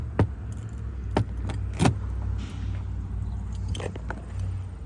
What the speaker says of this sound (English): You use the key to open that.